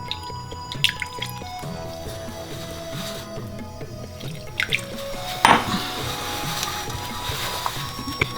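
Water dripping and trickling into a bowl of flour while making dough for chicken momos, with small splashes and clinks, a sharper splash near the middle, and faint kitchen noise throughout.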